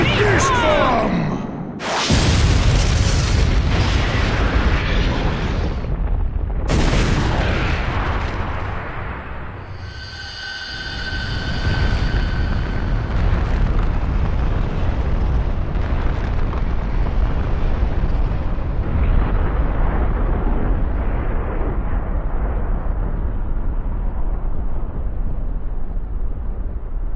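Bomb blasts in the fighting game Naruto Shippuden Ultimate Ninja Storm 3: a loud burst near the start, a second sharp blast around seven seconds, then a long rumbling roar with sustained rushing noise and voices over it.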